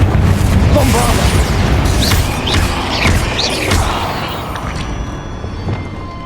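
Bombarda spell blasts in the Hogwarts Legacy game, a few booming bursts amid a dense wash of combat effects and magical whooshes, loud and close.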